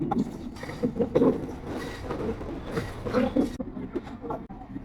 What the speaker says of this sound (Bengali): অবশেষে অল্প কিছুক্ষণ ওয়েট করার পর ট্রেনটা চলে আসছে